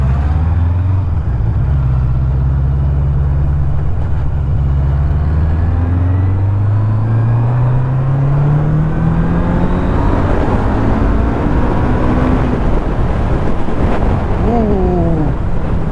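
A Honda CB 1000 SF motorcycle ridden through Belgrade city streets, its engine note rising through repeated accelerations and gear changes, loud and close with wind buffeting the microphone.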